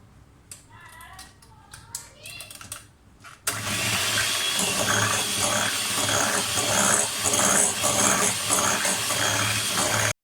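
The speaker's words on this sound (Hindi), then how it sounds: "मिक्सर हमारा अच्छी तरह से बीट हो गया।" A loud, steady electric mixer motor whirs after a few seconds of quieter sound, with a grinding, rhythmic churn of beaters working through thick chocolate sponge cake batter.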